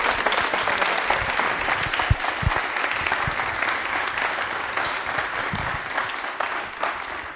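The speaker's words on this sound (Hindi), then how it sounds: "तो एक बार तालियां जोरदार वाली होनी चाहिए उनके लिए।" Loud, sustained audience applause fills a TV studio during a yoga special quiz show, dense steady clapping lasting several seconds with no speech over it.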